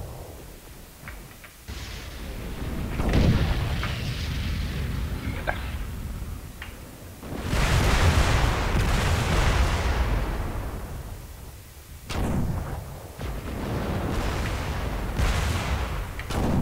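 Weapons fire in the mech combat game MechWarrior Living Legends on the Lakefront map, with heavy artillery-like blasts and bursts of gunfire recurring in loud rolling waves across the whole stretch.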